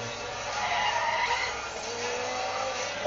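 A car drifts with tires skidding and squealing in the racing video game Need for Speed The Run, a continuous screech over engine noise that holds at a moderate level for about three seconds with no talking.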